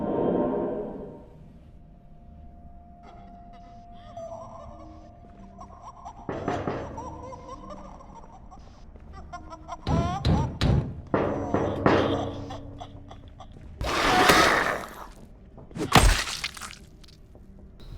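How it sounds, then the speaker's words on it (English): A zombie in Project Zomboid bashing wooden barricades, a run of heavy thuds and knocks ending in loud cracking, splintering breaks, with quieter game sounds between. "I could still hear one tapping on wood. This most likely meant that it was trying to break barricades"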